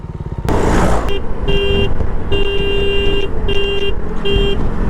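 A vehicle horn honks repeatedly in traffic on a ride toward Kedarnath, sounding as a series of short and longer bright tonal blasts over a running motor and road noise.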